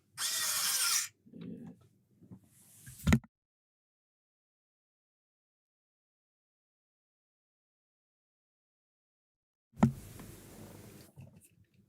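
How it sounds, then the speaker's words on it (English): A power drill drives screws to secure a panel in short, loud whirring bursts, with a long stretch of silence before a final burst near the end. "We'll get them screws in now to secure this in."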